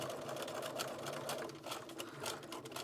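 A sewing machine runs a straight stitch along a scrunchie seam, producing a rapid, steady mechanical whirring chatter that pauses briefly and resumes, quiet and close.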